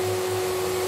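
A Graco 9.5 Pro Contractor HVLP Edge 2 Plus spray gun blows a steady, loud airy hiss with a constant motor whine, a brief continuous burst of spraying.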